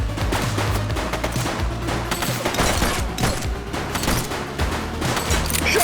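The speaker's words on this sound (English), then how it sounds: "Shots fired!" Dense, sustained gunfire fills the police video game The Precinct, rapid overlapping shots and booms running loud and continuous with no break.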